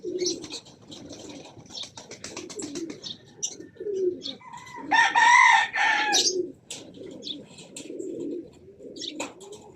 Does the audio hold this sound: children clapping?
no